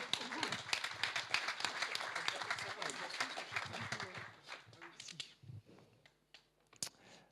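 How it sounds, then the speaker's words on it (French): An audience at a business association evening event claps in a lively burst of applause that gradually thins out into scattered claps, with murmured voices underneath. "Est-ce qu'on peut les réapplaudir une fois?"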